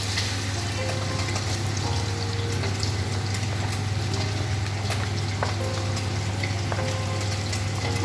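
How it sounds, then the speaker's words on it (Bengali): Water is poured into a hot pan of small fish cooking with radish, producing a loud, continuous hissing and bubbling wash that stays steady from start to finish. "এখন পরিমাণ মতো জল দিয়ে দেব।"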